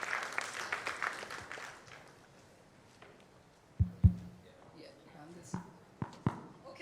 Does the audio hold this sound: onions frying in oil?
no